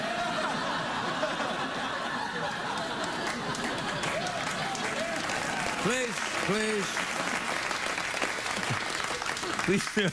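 Studio audience at a late-night talk show applauds steadily with scattered laughter and chuckles, while a voice talks over the crowd in brief phrases.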